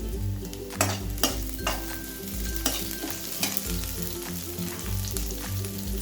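Cabbage and capsicum stir-frying in a pan for Manchurian, with steady sizzling and repeated spatula scrapes and taps against the metal, close and prominent, alongside tonal background music.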